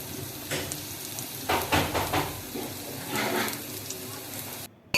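Cumin seeds crackling in hot oil for a mung dal tempering, with mustard seeds to follow, give a steady fizzing sizzle that swells in a few bursts and then cuts off abruptly at the end.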